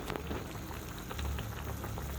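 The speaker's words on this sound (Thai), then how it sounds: "กำลังลวกผักกะหล่ำปีใส่กระทะนี่ค่ะ น้ำเดือดพุดพุดพุดพุดพุดเลยค่ะพี่น้อง" Water boils hard in a pan while cabbage is blanched for a Thai home-cooked meal, giving a dense, continuous bubbling and popping, close and steady, with no talking.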